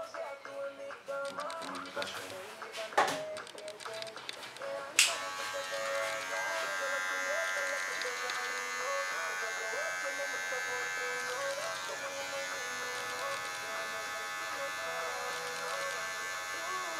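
Electric hair clippers cut neck hair at a barbershop. They give a steady, close buzz that lasts throughout, with a sharp click or two early on.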